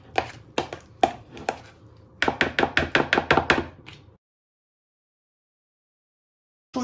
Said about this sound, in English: So what you do next is you chop your end off your cucumber.